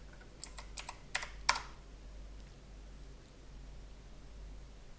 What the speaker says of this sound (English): so if I type in who,